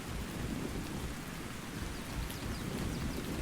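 Steady rain and a low rumble of thunder from a storm in the video game Ark Survival Ascended, a dense, continuous wash of sound with no talking.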